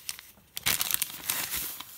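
A small, cute plastic bag holding baby bodysuit extenders crinkles and rustles up close as it is handled, with quieter taps first, then a busier stretch of crackling.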